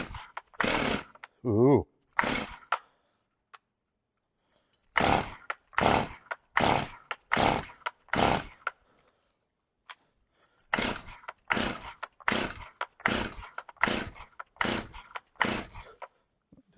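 A Stihl Farm Boss chainsaw with the choke on, neglected for nine years, being pull-started again and again: a long series of separate rasping cord pulls with brief sputters and no steady running. A voice briefly exclaims once.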